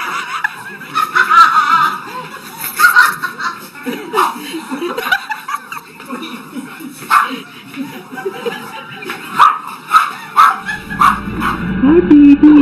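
Dogs bark and yip in short bursts while people laugh and talk over them, a lively indoor mix of close barks and chuckles.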